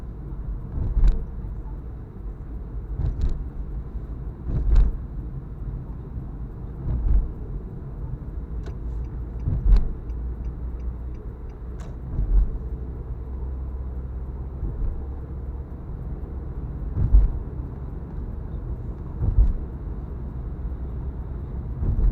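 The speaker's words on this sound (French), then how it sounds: "En attendant de laisser passer d'autres voitures." Car traffic crosses the Jacques-Cartier bridge in a steady low road rumble, with vehicles passing by at irregular intervals and periodic sharp clunks from the deck, moderately loud with no speech.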